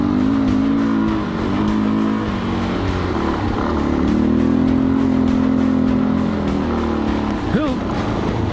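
A dual-sport motorcycle, a KLR 650 or DRZ 400 SM, drones along loud and close on a ride in Idaho, its engine pitch holding steady, then briefly revving up near the end.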